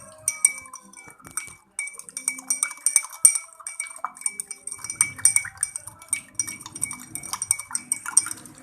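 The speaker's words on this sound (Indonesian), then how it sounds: "Setelah itu kita aduk beberapa menit." Rapid metallic clinking of a spoon stirring sugar in a glass, a steady stirring rhythm of light, bright taps, close by and with no talking.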